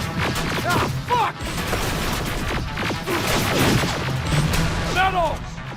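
Dense, rapid gunfire crackles through a firefight in Terminator Resistance, with bursts and impacts layered under loud shouted voices throughout.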